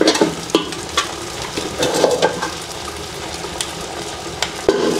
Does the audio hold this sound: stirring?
yes